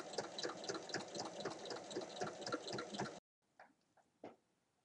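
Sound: sewing machine topstitching 1 mm beside a seam

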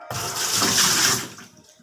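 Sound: water being poured into a washing machine

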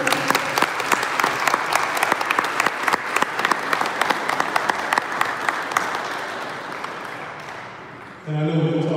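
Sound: applause for a student athlete's signing

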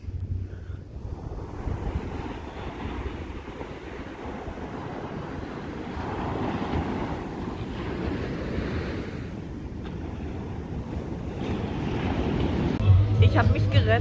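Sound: big ocean waves at Camps Bay beach

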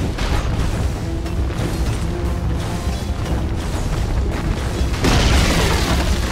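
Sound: tower under attack explosions in Dota 2 video game

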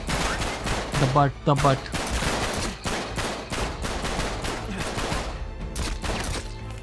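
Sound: gunfire in video game Uncharted 3

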